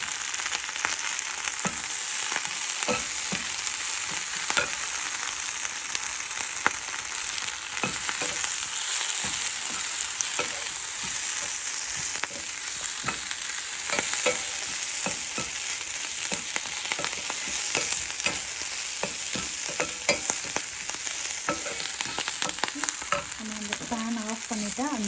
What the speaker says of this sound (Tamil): இந்த சுருங்குற வரைக்கும் ஒரு லைட்டாக வதங்கினா போதும்.